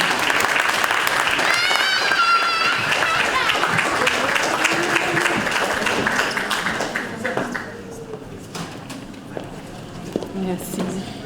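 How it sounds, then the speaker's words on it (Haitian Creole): An audience gives a sustained round of applause for an ambassador at a consulate general gathering in Paris. The clapping is loud at first and thins out later, with voices speaking over it. "nous allons demander une fois plus pour l'applaudir"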